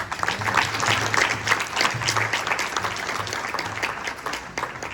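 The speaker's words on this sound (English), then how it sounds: "Please give another big applause for all the speakers." Sustained, dense applause for the speakers from a large audience at a talk, steady and loud throughout with no pauses.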